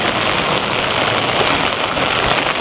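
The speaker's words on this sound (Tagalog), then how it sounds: "Tsaka ang lakas ng ulan, no? Kung naririnig nyo." Dense, loud hiss of heavy rain pouring steadily and close, an unbroken wash of drumming drops with no letup.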